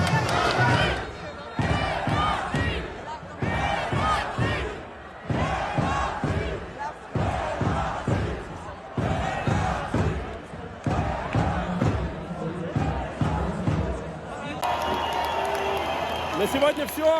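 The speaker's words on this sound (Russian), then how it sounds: "можете кричать «Уходи»." A large football crowd in Yerevan at an Armenia versus Georgia match roars and chants in loud rhythmic bursts, voices massed together with repeated surges, continuing steadily before a brief noisier stretch at the end.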